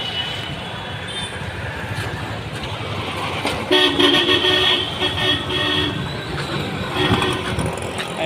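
A car on a road outside a Mahadev temple, its engine and tyre noise nearby, with a couple of short horn toots rising mid-way; people talk over it.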